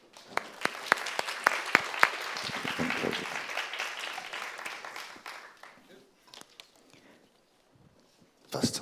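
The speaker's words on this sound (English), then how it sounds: "Please, a round of applause." An audience at a fireside chat event breaks into applause, dense clapping with a few louder claps that gradually fades out, followed by faint voices near the end.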